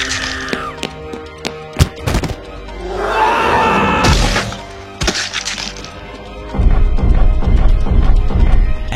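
SCP-682, a monster in an SCP animation, smashing through walls: repeated heavy thuds, cracks and crashing debris, loud and close, with a rumbling tremor building between impacts.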